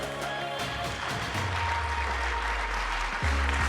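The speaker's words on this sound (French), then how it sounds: "sous vos applaudissements, mesdames, messieurs," A crowd at a public project presentation applauds steadily with dense clapping throughout, over low sustained music tones.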